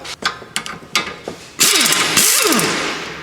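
A ratchet with a 19 millimeter socket loosens a bolt during a Honda Civic front wheel bearing replacement: a few short clicking strokes, then a longer loud stretch of fast, continuous ratcheting up close.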